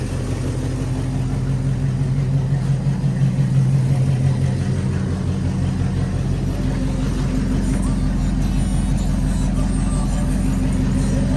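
An Oldsmobile Cutlass Supreme engine idles with a steady low rumble, close and continuous, with a faint hum from a car audio system and a brief rise in pitch partway through.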